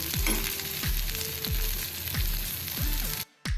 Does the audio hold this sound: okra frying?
yes